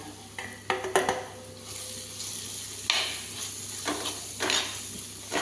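Spice powders for a pork and koorka curry sizzle steadily in a hot pan, with a few clinks of a spoon and stirring bursts over the continuous frying hiss, close up.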